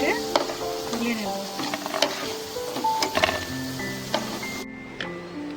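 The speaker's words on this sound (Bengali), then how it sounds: "ভালো করে এগুলো ভেজে নেব।" Rohu fish roe fritters sizzle steadily in oil, close by, with scattered utensil clicks and scraping as they are turned; a faint tonal hum runs underneath until a brief drop near the end.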